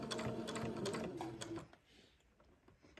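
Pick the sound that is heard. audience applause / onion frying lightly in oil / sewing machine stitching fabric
sewing machine stitching fabric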